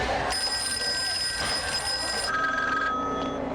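Several telephones ring in overlapping electronic trills from Arman's 1995 piece Telephones, steady and fairly loud, the tones shifting midway as one bell drops out and another chimes in.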